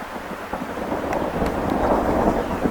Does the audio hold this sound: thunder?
yes